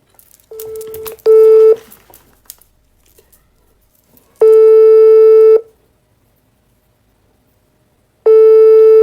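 Telephone busy signal from a call to an ex-wife's line, heard as loud repeating steady tones in separate bursts with pauses between them and no talking.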